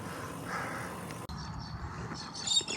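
Crows caw near a cyclist stopped with sandwiches during a hot Australian ride, a couple of harsh calls rising faintly over quiet outdoor background near the end.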